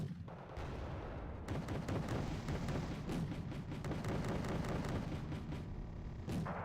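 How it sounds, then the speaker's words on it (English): Panzer tank cannon fire and rolling gunfire in the video game Wargame: Red Dragon, faint and distant, with repeated booming shots and crackling volleys in a steady barrage with no talk over it. "Oh, that's a Panzer build shooting at us."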